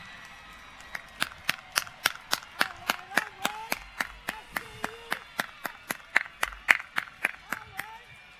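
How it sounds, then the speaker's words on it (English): Graduation audience at a high school commencement ceremony claps in a steady, rapid rhythm for the class of 2021, sharp distinct claps repeating for several seconds with faint voices underneath. "Can we give them another round of applause?"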